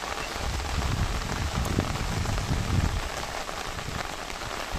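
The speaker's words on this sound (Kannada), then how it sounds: "ಮಳೆ ಜೋರಾಗಿ ಸುರಿತಾ ಇರೋದ್ರಿಂದ" Dense, steady heavy monsoon rain pours down at Bhagamandala, a constant hiss with thick pattering on surfaces, close and loud throughout.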